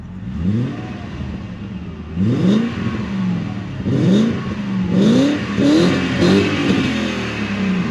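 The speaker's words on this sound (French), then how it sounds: "faire quelques petites montées en régime" Old BMW V8 engine revved repeatedly while stationary, rising in short bursts and dropping back to a rumbling idle between them, loud and close, with a brief word spoken.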